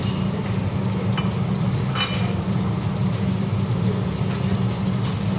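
An omelette of eggs, cheese and tomatoes fries on a hotel cooking station in Sharm El Sheikh, giving a steady close sizzle and crackle with occasional brief utensil clinks.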